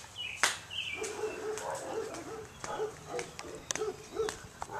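A cartoon dog barks in short sharp yaps scattered over a few seconds, fairly close and moderately loud, with faint background sounds between the barks.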